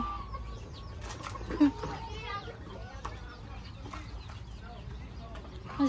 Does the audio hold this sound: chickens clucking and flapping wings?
yes